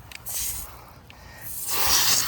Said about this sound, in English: But I got the water hose turned on.